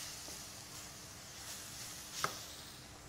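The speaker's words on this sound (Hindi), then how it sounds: "यहाँ पे हमारा जो हलवा है वो ज़बरदस्त सा जो है वो भुन रहा है" Gajar ka halwa, a carrot halwa, roasts in a pan with a soft, steady sizzle that hisses faintly and evenly throughout, with one brief sharper crackle near the end.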